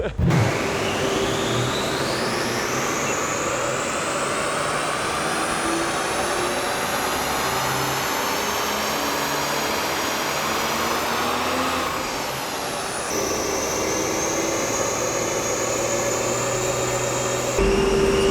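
A stock 2020 Toyota Supra engine revs on a chassis dyno, its pitch climbing in a long steady rising whine through the gears, then dropping back briefly before holding high again, loud and close throughout.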